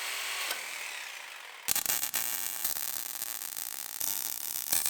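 A die grinder smooths a weld on a metal toolbox during equipment trailer modifications, running as a continuous close, rough abrasive whine with a change in pitch partway through and small bumps of contact against the metal.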